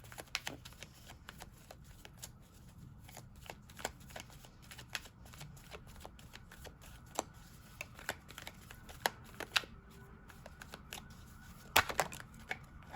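Tarot cards being shuffled by hand, a continuous soft riffling rustle with repeated sharp flicks and snaps, close and alone with no voice.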